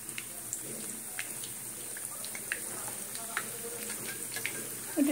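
Food sizzling in heated oil in a home kitchen, a steady close crackling hiss with scattered small pops throughout and a brief louder clatter at the end.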